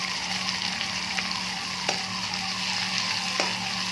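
Beans, onion and carrot fry in a pan with a steady, close sizzle and a few light scrapes and clicks of stirring on top.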